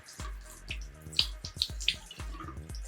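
A makeup brush is rinsed in a small pool of water, making close splashing, sloshing and dripping sounds with a few bright droplet plinks, heard alone without speech.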